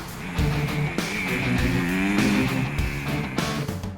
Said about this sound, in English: The bikes we got are 250 CRF Hondas, which is like absolutely ideal for this stuff.